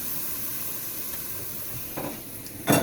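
Vegetable fried rice sizzles in a pan over high heat, a steady close hiss running throughout, with a brief louder crackle and stir near the end.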